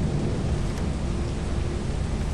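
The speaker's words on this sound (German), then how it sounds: "Oh, es regnet." Steady rain hisses in a stormy scene in the video game Lethal Company, with a low rumble of thunder rolling beneath the continuous wash of noise.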